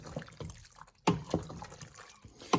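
Lasagna sauce being stirred in a pot, giving soft wet squelches and a few sharper liquid clicks at an uneven pace, heard up close with no talking.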